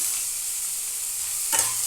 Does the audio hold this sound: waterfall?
no